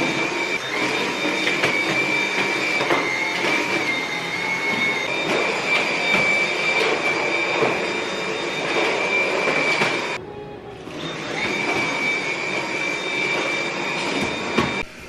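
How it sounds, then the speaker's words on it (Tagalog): A vacuum cleaner runs steadily during house cleaning, a loud continuous whine and rushing drone that briefly drops out for about half a second before resuming. "So, anyway, mag-vacuum na lang ako dito."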